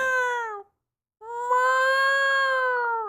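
A person imitates a crying cat shut in a carrier with two drawn-out, high meowing wails separated by a short pause, loud and close with no other sound around.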